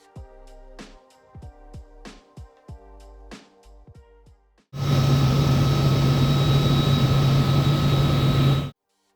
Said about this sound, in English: Here the crew performed what's known as a hot turnaround, where the right engine was kept running